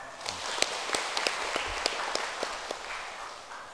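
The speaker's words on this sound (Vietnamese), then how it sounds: "một tràng pháo tay." A congregation claps for the parish choir during a Mass for Our Lady of the Rosary, a continuous moderately loud wash of applause with scattered distinct sharp claps, no voices over it.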